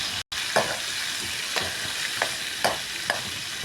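Onions frying in a pan with a steady, soft sizzle, broken by a few light stirring taps of a spoon at irregular intervals, close and quiet.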